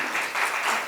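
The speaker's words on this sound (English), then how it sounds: "Can we have a big round of applause," Audience applause at an education leadership event in Pune, a dense, steady wash of many hands clapping, fairly loud and continuous for a brief moment with no voices over it.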